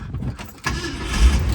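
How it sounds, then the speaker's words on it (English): A 1966 Ford Thunderbird's 390 cubic inch V8 catching after a brief crank, with a short starter whir and then a deep, swelling engine rumble close by. "And start the car."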